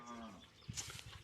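A native desi cow at a qurbani cattle market in Faridpur gives a single moo, with a fairly loud, clear, drawn-out call followed by rustling and shuffling nearby.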